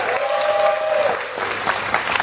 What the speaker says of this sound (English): Can we have a round of applause for Dr. Melanie Samuels